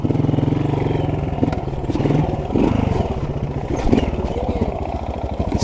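A Honda RTL trials motorcycle ridden nearby, its single engine putting out a continuous low thumping drone with small throttle swells and occasional clatter, steady and fairly loud throughout.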